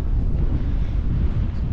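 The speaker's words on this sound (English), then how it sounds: "It's really windy out here." Strong gusts hit the microphone beside a flatbed truck hauling an oversized load, a constant loud low roar with no break across the short stretch.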